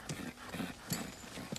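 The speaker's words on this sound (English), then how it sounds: "I've never seen horses like this before." Kentucky racing horses shift and step, a few faint, uneven hoof clops sounding at a distance.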